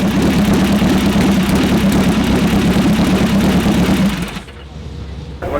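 A vintage 255-cubic-inch hot rod engine burning methanol runs with a loud, rough throbbing roar for about four seconds, then drops away to a quieter background rumble.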